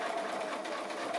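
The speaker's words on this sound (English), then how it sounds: "I'm just going to sew right as far as possible, right next to the stiff stuff" Sewing machine running steadily while stitching right alongside stiff, fairly thick material for a conical Santa decoration, a continuous close mechanical whir with no pauses.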